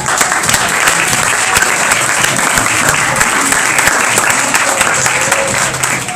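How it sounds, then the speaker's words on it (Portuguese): A church congregation claps together in sustained, dense applause that fills the whole stretch at a steady, loud level, with a few faint voices mixed into the crowd. "Podeis mais uma vez aplaudir o Senhor."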